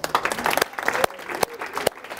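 An audience at a diversity and inclusion talk applauds and cheers together, with steady clapping and a few sharp, loud claps standing out from the noisy crowd.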